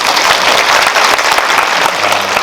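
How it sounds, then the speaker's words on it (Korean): Audience applause fills a Lotte Cinema World Tower screening room during a Q&A for the Korean film 'Juror 8', with steady, dense clapping from a large crowd throughout. "박수 한번 부탁드릴게요"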